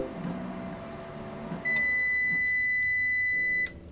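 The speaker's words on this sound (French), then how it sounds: "le courant vient de se couper" Power cuts out in a forest survival video game: a steady electrical hum carries electronic beeping tones, then it all stops abruptly and leaves quiet room tone behind.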